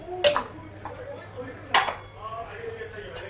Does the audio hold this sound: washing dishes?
yes